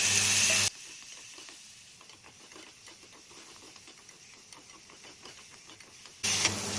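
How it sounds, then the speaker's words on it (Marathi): Tomatoes frying in a pan for an egg curry, giving a continuous crackling sizzle with patters and stirring scrapes, with louder bursts at the start and end. "टमाटे आपण फ्राय करून घेऊया"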